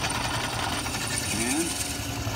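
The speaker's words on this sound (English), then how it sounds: "I'm going to turn on the drill press here" A drill press runs with a steady mechanical whir and grind, loud and close, and a faint voice can be heard under it.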